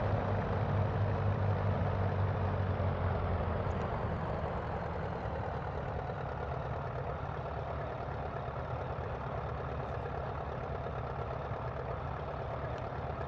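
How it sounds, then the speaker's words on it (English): Steady simulated piston engine drone of a de Havilland DHC-1 Chipmunk running in Microsoft Flight Simulator 2020 at Queenstown, a continuous even hum at moderate level with no talk. "I was expecting the engine noise to be a little bit louder"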